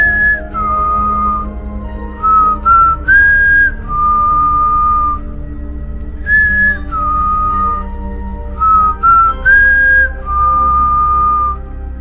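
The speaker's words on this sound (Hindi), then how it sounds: "ठीक 3:03 में हमने पहली बार उस सीटी की आवाज़ सुनी।" An eerie sound effect in a horror podcast: a high, clear whistle repeats a short two-part melodic phrase several times, loud and up front over a low hum.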